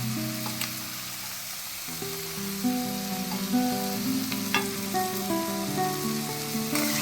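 Carrots sizzle steadily as they are stir-fried in a hot pan for a chicken sandwich, a continuous close frying hiss with occasional stirring scrapes and no talking.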